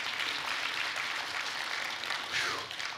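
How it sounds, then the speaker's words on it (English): Audience applauding at a pledge announcement, a dense wash of many hands clapping at once, loud and continuous for a few seconds with no voice over it. "Now you clap."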